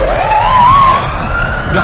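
An ambulance siren in a New York inner-city neighborhood wails loud and near, its rising, wavering tone sweeping continuously over low road rumble.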